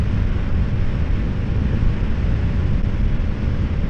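Loud, steady wind roar buffeting the helmet microphone while riding a 250NK motorcycle in strong wind, a dense low rumble with no talking.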